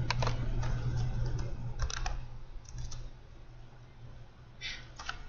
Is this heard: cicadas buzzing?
no